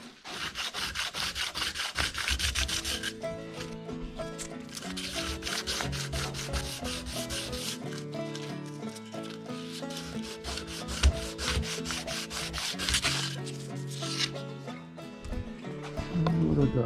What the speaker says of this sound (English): Might need something a bit more aggressive to get these scratches out, but yeah, we'll go through the process and do some sanding.